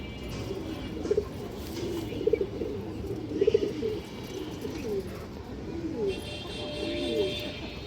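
Pigeons coo, with soft, repeated throaty rolling calls in a regular rhythm at close range over a low background hum.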